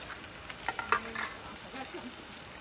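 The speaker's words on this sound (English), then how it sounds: "Watch how nice that thing's frying up here." Curry duck frying in a pot over a fire in Trinidad, a steady low sizzle with a few brief stirring knocks and clatters, heard up close with no talking.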